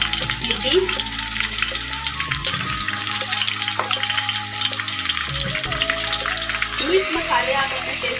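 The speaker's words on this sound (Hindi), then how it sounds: "और अब मैं डालूंगी ये बीफ" Beef dropped into a pot with light golden browned onions and bones, frying in a steady close sizzle with stirring and scraping noises, a voice speaking over it.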